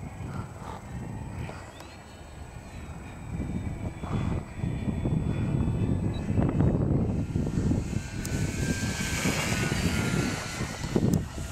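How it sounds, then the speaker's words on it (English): Gusty wind of roughly 15 to 20 mph buffets the microphone outdoors while a Multiplex Fun Cub RC plane flies, giving a steady low rumble that swells and surges, with a thin, faint motor whine drifting overhead. "I'd say they're about 15 to 20 mile an hour gusts right now."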